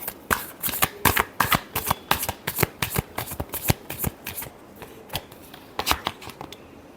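Tarot cards being shuffled by hand, a steady run of crisp riffling snaps and slaps repeating through the whole stretch, close and fairly quiet with no talking.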